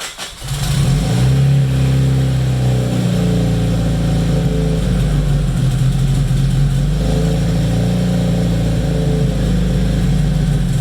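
A Nissan KA24DET engine cranks and catches within a second, then settles into a loud, steady running rumble with slight wavering in pitch, close by and alone.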